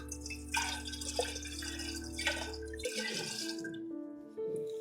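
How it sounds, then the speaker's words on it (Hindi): Water splashes and drips as a wooden stick is washed, with soft trickling and light dripping sounds, faint and close, over a low steady hum. "धोकर, लकड़ी को भी धोकर"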